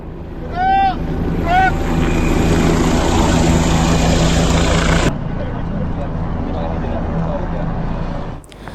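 Loud, steady rotor and engine roar of a nearby helicopter with wind buffeting, preceded by a couple of short whistle-like chirps.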